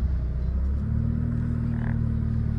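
A modified Mitsubishi Lancer EVO-6 with about 112,000 km on it idles nearby, giving a loud, steady low rumble that holds constant throughout, with no talking.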